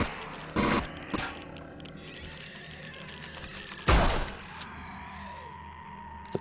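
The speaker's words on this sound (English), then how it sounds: "You fire enough bullets down range, eventually you'll hit something, I guess." Gunfire from the space survival game Empyrion Galactic Survival, heard as a few sharp bursts of shots spaced out over ambient game sound and mechanical hum, with no voices.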